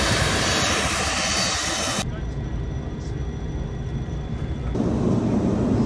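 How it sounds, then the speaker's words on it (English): A passenger airplane at an airport before an international flight from the USA to the UK, its steady engine roar loud and broadband, dropping briefly in level midway then surging again. "we saw the airplane about to take us over to the UK"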